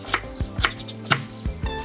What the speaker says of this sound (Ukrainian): Спочатку цибулю ріжемо навпіл.